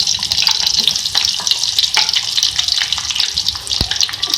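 Onion and garlic sizzling in half a cup of hot ghee for a dal tempering, a steady close hissing crackle with small pops and a brief stir clink, loud and continuous throughout.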